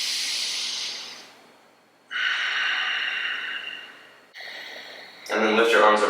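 Deep, slow breathing during a yoga agility workout for runners and athletes, with three long, close, hissing breaths, each one breaking off before the next.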